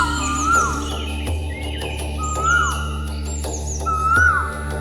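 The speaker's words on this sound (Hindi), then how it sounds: "परिंदों के तमाम सुर मिलकर जंगल में खूबसूरत मेलोडी पैदा करते हैं" Birds in the forest of Pilibhit Tiger Reserve call repeatedly with rising, slurred whistles and hoot-like notes, layered over a steady low hum and scattered sharp clicks.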